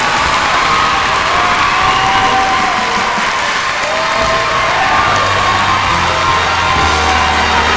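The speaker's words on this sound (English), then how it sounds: "Another round of applause for your top 5 finalists." A pageant crowd roars for the top five finalists, loud sustained clapping mixed with cheers, whoops and high shouts, with a low steady hum entering partway through.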